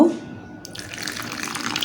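A little water runs and splashes close by as it is poured into a wonton dough mixture with egg, starting strong, easing, then resuming in a steady trickle.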